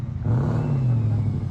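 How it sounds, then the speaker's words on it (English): A twin-turbo Ford F-150 pickup passes close by at a land-clearing site, its engine rising into a brief rumbling, whirring drone. "Little twin turbo F-150."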